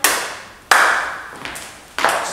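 A few sharp single hand claps land in a slow, spaced rhythm to the beat during a dance lesson, each crisp and close with a quick decay.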